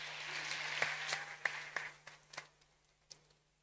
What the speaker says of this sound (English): Another round of applause for President Samia Suluhu Hassan